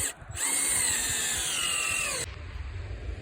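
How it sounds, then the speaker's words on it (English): A 20-volt cordless drill whirs steadily at close range for about two seconds as it drives a Torx screw, then cuts out, leaving faint handling noise. "So they're put on with these Torx heads and my big 20-volt drill."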